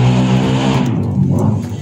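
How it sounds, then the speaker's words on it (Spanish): A motorcycle passing by on a street, a loud engine roar close by that fades away within about a second as it moves off. "Tenía que pasar la moto ahorita."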